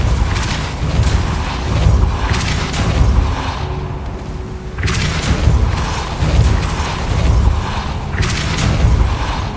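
Repeated Repulsor spell blasts in Hogwarts Legacy, loud booming bursts arriving in a steady rhythm of surges every second or so, with rumbling effects between them.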